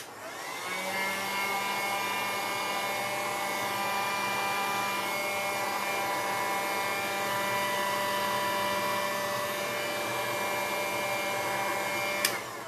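A heat tool blows steadily and loudly to dry a decoupage craft piece, its whine holding an even pitch for several seconds before a click as it switches off; no talking.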